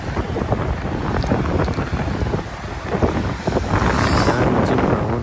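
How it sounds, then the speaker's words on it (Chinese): Strong wind buffets the microphone on a Bohai Sea beach, a continuous loud roar with gusting rumble and surf noise underneath, steady throughout with no voices. "你看今天这个大风大浪"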